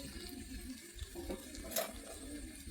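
Water poured into a pan of sautéed pumpkin and potato, a steady soft splashing stream throughout with a brief brighter gush near the end, close and moderately quiet, no talk.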